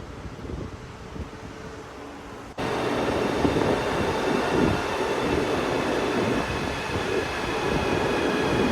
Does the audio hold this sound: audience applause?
no